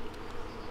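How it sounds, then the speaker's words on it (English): Honey bees buzzing densely during a hive split, a continuous, fairly faint hum filling the short stretch with no talk. "That is a lot of bees."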